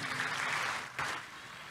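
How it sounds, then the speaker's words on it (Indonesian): A church congregation claps for Jesus in a sustained burst that fades slightly, then a second short swell of clapping near the end, moderately loud and with no speech over it. "Tepuk tangan dulu yang meriah buat Tuhan Yesus."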